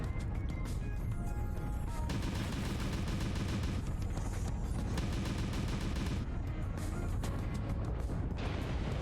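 Mech weapons in Mechwarrior Online firing in a dense continuous barrage of loud booms and impacts over a heavy rumbling battle bed, with no clear talk.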